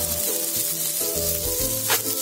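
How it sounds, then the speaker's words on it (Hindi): Okra (bhindi) fries in a pan with a steady, close crackling sizzle and a few light stirring scrapes across a brief stretch, with no voices. "ये देखिए हमारी भिंडी बिल्कुल फ्राई हो चुकी है, कितना यम्मी और क्रिस्पी दिख रहा है।"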